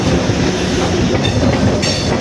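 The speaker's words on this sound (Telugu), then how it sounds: "ఇప్పుడు మనకు ఒకటి ట్రైన్ కూడా వస్తుంది" A train rolls past close by with a loud, steady rumble and rhythmic clatter of wheels on rails, filling the whole stretch without voices.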